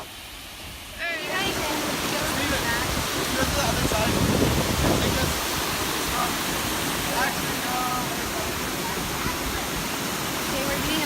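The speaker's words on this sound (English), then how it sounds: "Dude, that's such intense water." Rushing, intense water at a cliff-diving spot in Puerto Rico, a loud steady roar like a waterfall filling the scene, with voices talking over it.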